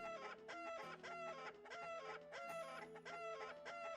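Looping cluck and crow sounds from a chicken god character in an RPG Maker game, a steady rhythmic run of fowl calls over a game music bed, faint and continuous with no talking.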